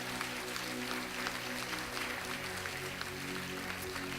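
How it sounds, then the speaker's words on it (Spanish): Faint, steady applause from a church congregation during a sermon, continuous clapping under a low sustained musical hum with no speech. "Dale una ofrenda de palmas a nuestro Dios."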